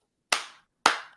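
Two sharp hand claps about half a second apart, crisp and close, each fading quickly into silence.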